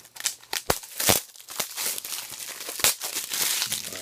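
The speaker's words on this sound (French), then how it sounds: "On va déballer le tout pour vous montrer l'intérieur." Blu-ray box set of Star Trek: Discovery season 1 being unwrapped, giving close, loud bursts of crinkling and tearing plastic and cardboard packaging in an irregular rhythm, with no talking.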